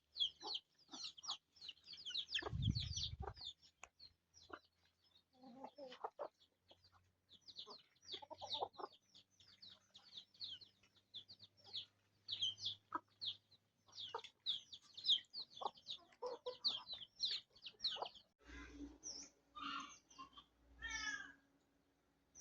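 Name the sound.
chickens clucking and ducks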